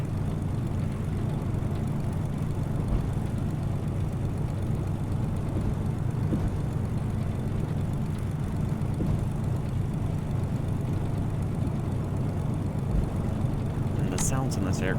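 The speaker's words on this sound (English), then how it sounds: "that really sounds like a small prop plane taxiing" Small propeller plane taxiing in a flight simulator game, a steady low engine drone holding evenly throughout, with a brief high clicking burst near the end.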